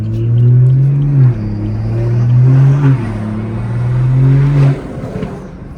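Inside a tuned BMW 340i making around 800 hp with a big turbo, a loud engine drone rises and falls under acceleration. A steady tone holds throughout with brief dips between pulls.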